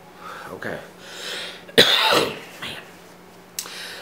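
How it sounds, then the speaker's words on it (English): A person coughs after vaping on a mod fitted with a 1.1 ohm coil at 15.5 watts. A few loud, harsh coughs and some throat clearing are heard close up, spread out with short pauses between them. "Some people ask me why I always cough when I vape."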